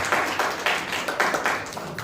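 Audience applause at a Hindi poetry reading by poet Jagjiwan Mishra, a small crowd clapping in uneven bursts with rhythmic swells, moderately close and steady throughout, without any talk over it.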